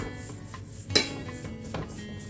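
A spoon stirs vegan blueberry lemon scone dough in a bowl, producing a few soft scrapes and one clear clink against the bowl, close and fairly quiet.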